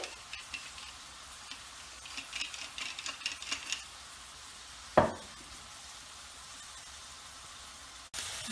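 Red onion frying in a pan gives a faint, steady sizzle with soft stirring scrapes in the first few seconds, one sharp clatter midway, then a quieter hiss.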